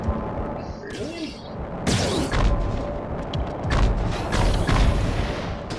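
Rockets exploding in the Ratchet and Clank video game, with deep booming blasts that come in several bursts along with game sound effects. A voice talks over them.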